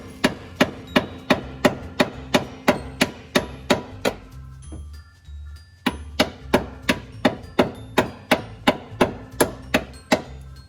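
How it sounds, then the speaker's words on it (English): Rapid, regular hammer blows on a 2011 Subaru Outback car part, sharp ringing metal strikes in a steady rhythm, briefly pausing before resuming, close and loud. "Stand up and hammer backwards. You'll have more power."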